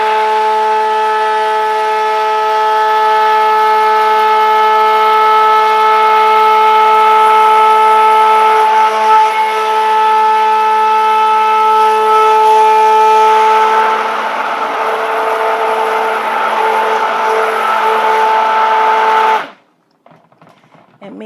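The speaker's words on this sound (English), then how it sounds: "make sure whenever you're stick blending, whether it's hot process, whether it's cold process soap, that you always keep your stick blender in the solution" Stick blender mixing cold process soap, a loud steady motor whine with a constant pitch that holds for about nineteen seconds and then cuts off abruptly.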